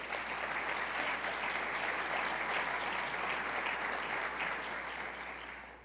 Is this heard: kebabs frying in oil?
no